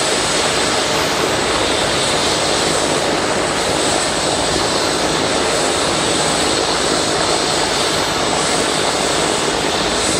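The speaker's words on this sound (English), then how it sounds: "And I see the helicopter just come over here." A Lifeline medical helicopter flies in over a mock drunk and distracted driving crash scene, its loud, unbroken rotor and engine roar filling the whole stretch with no voices.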